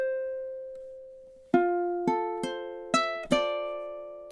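On ukulele, measures 17 and 18 of a song: one held note rings out, then a short run of plucked notes follows in a steady rhythm, clean and close with no talking.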